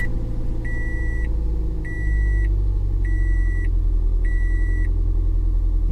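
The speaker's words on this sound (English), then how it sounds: "I'm gonna try and start it up again." Toyota Yaris running after a 1ZZ throttle body swap, its steady low engine rumble close and continuous, with four evenly spaced electronic beeps chiming over it and the engine note swelling slightly partway through.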